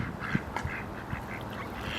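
Ducks quack in short, irregular bursts, fairly close by at a park pond, over a soft outdoor background.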